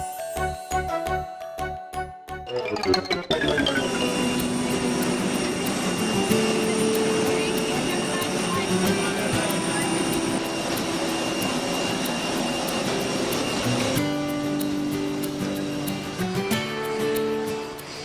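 A loud, sustained jet engine roar building and holding as an airplane takes off, with a tonal whine and some rattling, heard from inside the cabin.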